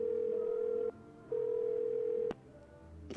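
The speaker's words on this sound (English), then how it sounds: "Let's make a call." A telephone call placed in the video game Do Not Feed The Monkeys: a steady dial tone holds, breaks briefly, resumes, then cuts off with a click, with no talking over it.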